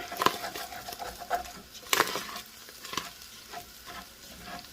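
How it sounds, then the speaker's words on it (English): Brisket fat seasoned with smoked salt fries in a pan like bacon: busy crackling and spattering close up, with uneven pops and bursts of stirring, and one louder crackle in the middle. "And then just kind of fry it up like bacon."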